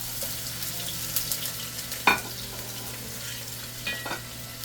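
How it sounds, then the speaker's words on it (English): Chopped onion fries in hot olive oil in a pan with a steady, close-up sizzle and crackle, broken by a few sharper pops and scrapes as it is stirred. "I'm going to fry the onion for about 3 to 4 minutes"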